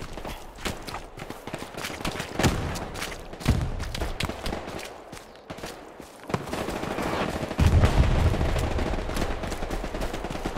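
SMG gunfire in the video game Hell Let Loose: rapid automatic bursts crackle repeatedly amid a dense, ongoing battle soundscape with other distant shots and heavy rumbles, fairly loud throughout.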